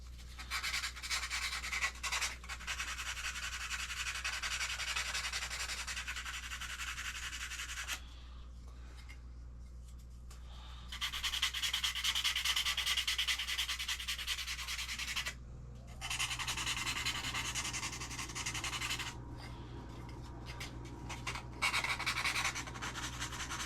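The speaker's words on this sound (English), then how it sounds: "Just a whole lot of sanding after that." Close, steady rasping of sandpaper rubbing back and forth on wood, in long strokes broken by a few brief pauses, while building a Zipkits Thunderboat model rocket.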